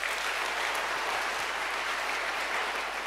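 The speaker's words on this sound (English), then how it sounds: "So the first noise is the clapping noises." Big, loud applause from a conference audience at an evening lightning-talk session, dense steady clapping filling the whole stretch without any speech.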